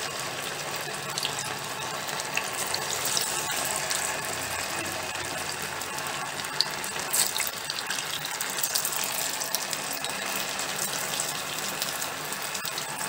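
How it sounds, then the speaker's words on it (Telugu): Sago (sabudana) punugulu fritters deep fry in hot oil with a continuous, even sizzle that holds steady and close throughout. No voices are heard. "ఇవి మంచి గోల్డెన్ బ్రౌన్ కలర్ వచ్చే వరకు డీప్ ఫ్రై చేసుకోవాలి."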